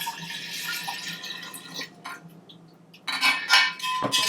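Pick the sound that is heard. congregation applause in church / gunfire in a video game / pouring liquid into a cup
pouring liquid into a cup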